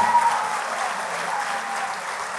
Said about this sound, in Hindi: एक बार जोरदार तालियां बजा के बताएं।